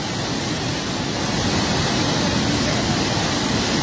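Khowai river floodwater pouring through a broken embankment at Jalalabad in Habiganj after two days of rain, a loud, continuous broadband roar of rushing water with no break.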